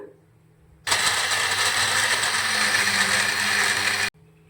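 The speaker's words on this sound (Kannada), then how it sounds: "ನುಣ್ಣಗೆ ಮಿಕ್ಸಿ ಮಾಡೋಣ" A mixer grinder whirs loudly, grinding almonds, cardamom and turmeric into powder, switching on abruptly and running at a steady, harsh high-speed roar for about three seconds before cutting off cleanly.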